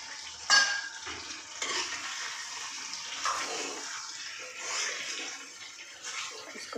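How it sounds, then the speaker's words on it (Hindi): A spoon stirs a mixed vegetable curry with tomato in a pan, making soft scraping and clanking over a light sizzle in short, irregular strokes close by. "इसको थोड़ा सा मिला देंगे,"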